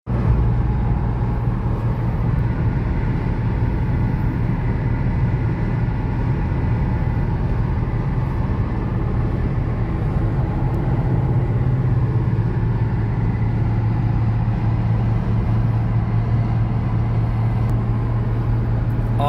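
Hot rods roll by on the Hot Rod Power Tour's rolling car show, a steady, loud engine drone that stays close throughout, with no talk.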